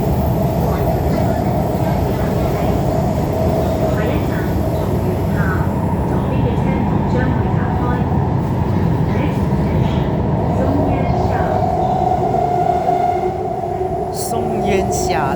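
Inside a Shenzhen Metro Line 4 train running between Niuhu and Qinghu, the older-style traction motors hum and drone steadily and loudly under continuous rumbling wheel and cabin noise, with a voice talking faintly over it.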